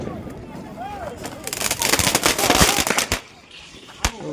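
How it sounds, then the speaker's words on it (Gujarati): Firecrackers going off on a rooftop during a festive night, a rapid cluster of sharp cracks and bangs building to a dense burst, then a single late pop, with voices around. "ધાબા ઉપર ફોડવાનું ચાલુ કર્યું છે"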